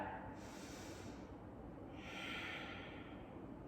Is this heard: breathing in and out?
yes